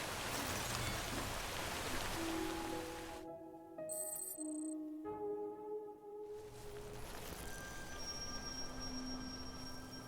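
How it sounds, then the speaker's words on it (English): Heavy rain pours in the Death Stranding video game as a dense, steady hiss, briefly dropping away midway while held musical tones play, then returning under lingering tones. "It's still raining."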